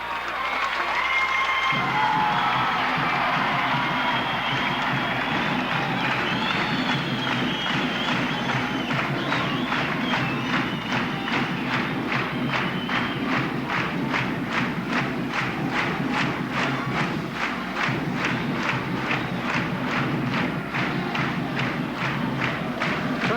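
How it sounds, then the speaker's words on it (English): Loud, steady crowd roar with rhythmic thumping at a 1979 high school basketball game in Morton, with the Potters about to take the floor against Rockford East on Parents Night; the rumble and stomping carry on throughout. "as you can tell by the crowd noise, the Potters are getting ready to come on the floor"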